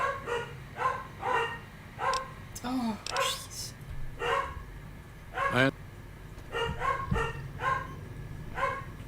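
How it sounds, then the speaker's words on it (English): Several small puppies bark and yip in short repeated bursts with a few whimpers, close and fairly loud, while a person talks over them indoors. "And the puppies are still cranky about something. Sorry. They're just gonna be making noise for a little while."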